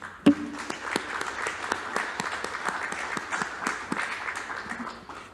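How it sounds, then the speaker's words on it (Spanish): Church congregation applauding together in a steady, moderately loud patter of many hands clapping, lasting the full few seconds and fading slightly at the end. "lo cual le vamos a dar un fuerte aplauso al Señor."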